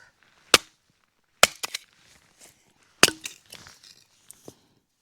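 An axe or hatchet splits chunks of oak into kindling at a lochside campsite in Scotland, several sharp, close chops spaced irregularly with brief splintering clatter between them in otherwise quiet surroundings.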